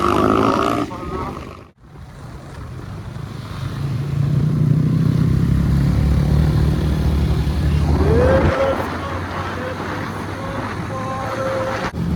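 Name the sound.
motorcycle riding on rough road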